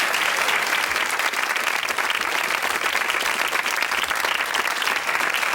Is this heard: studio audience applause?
yes